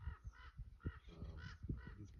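Several crows caw outdoors in open country where a hawk circles among them, giving a run of harsh, rhythmic calls at moderate distance with no talking.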